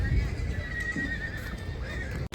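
A mare whinnies loudly in a long, wavering neigh at a horse race gathering in Hodka, Kutch, with some background commotion and hoof sounds nearby.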